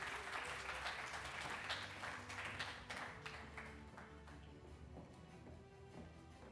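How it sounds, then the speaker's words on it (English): An audience at an award presentation for broadband and AI in Africa applauds with a dense burst of clapping that gradually thins and softens, heard at a moderate distance in a hall. "can you put your hands together and applaud TTCL for Dar es Salaam?"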